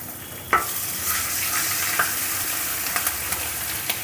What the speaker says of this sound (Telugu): ఇప్పుడు మన అల్లం కొద్దిగా పచ్చివాసన పోయేంత వరకు ఫ్రై చేసుకుందాం